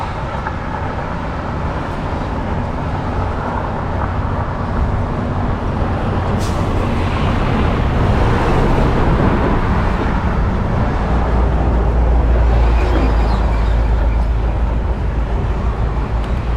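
Steady, loud roar of heavy city road traffic in a major Thai city heard from a bicycle, with dense engine rumble and passing vehicles continuous throughout, no voices.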